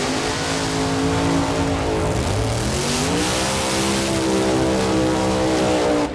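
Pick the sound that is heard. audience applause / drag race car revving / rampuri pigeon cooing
drag race car revving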